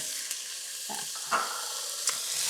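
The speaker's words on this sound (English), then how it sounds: "that goes into the oil with my 2 diced onions to make my soup" Diced onions and chopped red chilli frying in oil for butternut chilli soup, a soft steady sizzle with a few brief stirring knocks, close and quiet, no talking.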